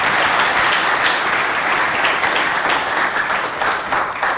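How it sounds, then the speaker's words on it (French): Dense, sustained applause from a crowd of secondary-school students in an amphitheatre in Abéché, steady and loud throughout with no speech over it. "je vous demande d'applaudir très très fort pour leur présence."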